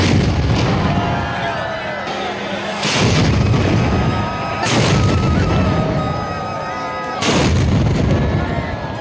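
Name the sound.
21-cannon salute fired at Shrinathji temple, Nathdwara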